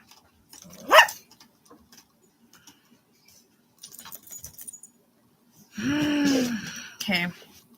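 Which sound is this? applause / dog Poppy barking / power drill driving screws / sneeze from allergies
dog Poppy barking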